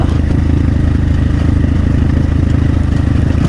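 Motorcycle engine laboring steadily up a steep climb, a loud, continuous mid-pitched drone with a rough, pulsing beat that holds close and constant throughout.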